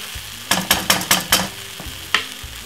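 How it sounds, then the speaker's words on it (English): Meatballs frying in a pan with a little ketchup are stirred: a quick run of five sharp scraping strokes close by, then a pause and one more, over a low sizzle, with no speech. "Simply give it a little stir."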